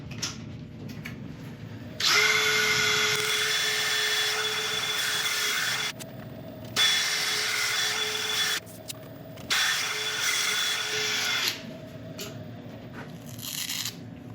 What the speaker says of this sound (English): I'm going to go over it now with a drill and a Scotch pad